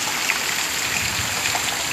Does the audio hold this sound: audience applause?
no